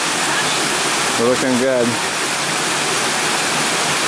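A private waterfall in a jungle on Maui rushes in a constant, loud wash of falling water, with someone briefly speaking over it near the middle.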